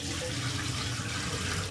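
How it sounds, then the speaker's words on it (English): Tap water runs steadily into a sink while soaked beetroot is rinsed to wash off sugar and salt, a continuous close splashing hiss with no talk. "To get all the sugar and salt off, so you probably want to rinse it and drain the water 3 or 4 times."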